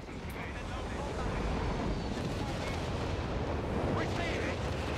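Artillery fire in the video game Company of Heroes 3 rumbles as a dense, continuous barrage of booms and blasts, loud and layered throughout, with a player talking over it.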